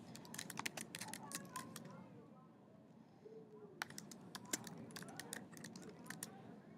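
A computer keyboard clatters in quick bursts of close key clicks, then pauses briefly before the typing resumes. A faint low murmur sits underneath the keys.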